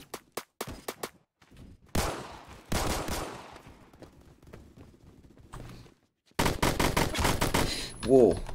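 Three-round bursts of gunfire in the Phantom Forces video game crack out loud and close, with scattered single shots first and then rapid clusters separated by quieter gaps and mechanical clicks.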